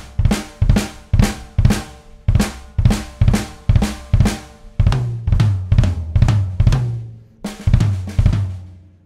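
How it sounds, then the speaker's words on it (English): A drum kit plays drags, quick grace-note strokes, between kick drum and snare in a steady loud groove, with hits repeating roughly every half second, close and punchy, played alone with no talk. "We can even take this and we could play drags in between our kick drum and our snare"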